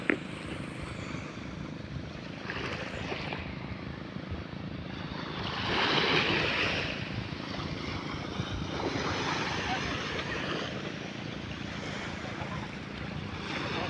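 Sea waves at high tide wash steadily along a shore where people are fishing, a continuous broad rushing that swells louder for a moment midway, with faint voices in the background.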